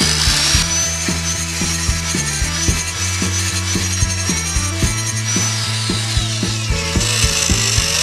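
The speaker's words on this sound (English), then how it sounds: "This one is equipped with a regular grinding disc, and I'm gonna put a little point." An angle grinder fitted with a standard grinding disc bites into a metal rod to sharpen its tip, giving a loud, harsh, steady grind broken by rhythmic pulses of contact, close and with no speech.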